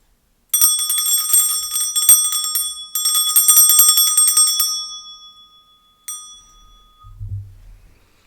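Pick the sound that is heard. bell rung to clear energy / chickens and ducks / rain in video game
bell rung to clear energy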